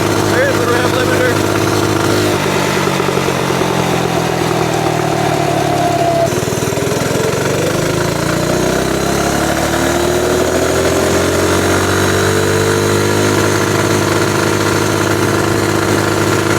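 A mini bike with a swapped Ghost 212 engine revs quickly up to its 6,000 RPM limiter, and the loud buzzing engine rises and wavers close by. A person talks over the engine noise.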